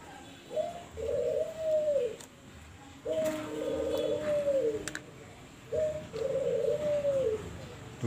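An albino white spotted dove gives three clear, close, rolling coos, each about a second and a half long, spaced a few seconds apart over faint background noise.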